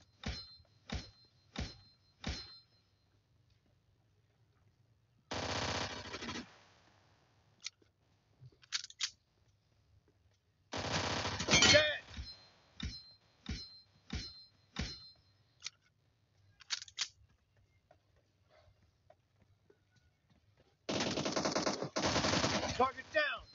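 PUBG Mobile team deathmatch gunfire, sharp close shots in quick bursts separated by quiet gaps, with a few longer sustained volleys and brief game voice callouts mixed in.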